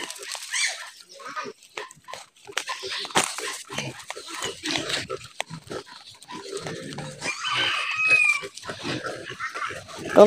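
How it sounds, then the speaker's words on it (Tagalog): Pigs grunting and oinking on a rural farm in Samar, close and busy and irregular, with a dog heard too and people talking nearby. "Ang laki ng baboy, baboy."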